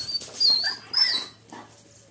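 A dog whimpers and yips in short, high, thin cries spread across about two seconds, close to the microphone, with a faint steady low hum underneath.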